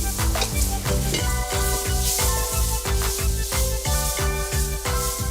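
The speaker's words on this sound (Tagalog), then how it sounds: "So make sure na haluin nyo ng maigi to para hindi masunog yung ilalim." A flour roux cooks in oil in a pan, stirred steadily with a rhythmic scraping against the bottom over a continuous loud sizzle, close and with no voices.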